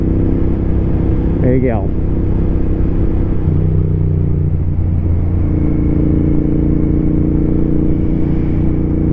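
A motorcycle running on a road in cold late-season weather, a steady low engine rumble throughout, with a brief rising rev near the start and a voice speaking briefly over it.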